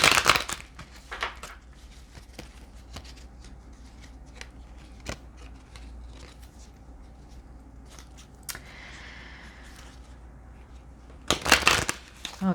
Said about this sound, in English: I'm just gonna cut the deck